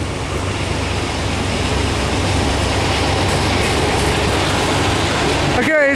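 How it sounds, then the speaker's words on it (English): A long empty ethanol freight train pulled by one locomotive rolls past close by, a steady broadband rumble of wheels on track with faint rhythmic clatter, continuous and loud throughout. "This looks like an empty ethanol train."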